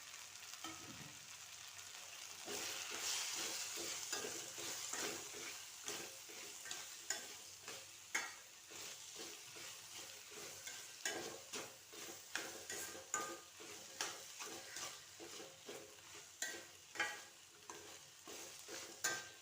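Fennel seeds fry in oil as they are stirred, a quiet continuous sizzle with regular scraping strokes that turn into rhythmic, distinct scrapes in the second half.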